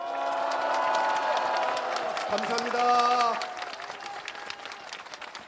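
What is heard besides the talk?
crowd applause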